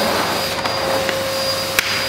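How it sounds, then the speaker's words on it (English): A Hoover vacuum cleaner runs with a loud, steady whooshing drone throughout. A few faint clicks and knocks sound over it, and no one speaks. "Starting off here with Kevin and a Hoover"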